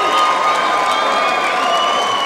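Arena crowd at a Kurtis Southern vs Warren Phillips fight cheers and roars steadily at the bell, a dense, loud wall of applause and shouting with no clear talk.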